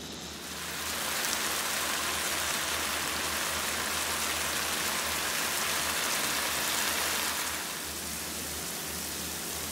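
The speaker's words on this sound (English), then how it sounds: "I've stirred them all together and I'm sauteing them." Chopped bell peppers sizzle steadily in a hot pan on high heat, a dense crackling hiss that swells in after a second and holds, easing slightly near the end, with no talk.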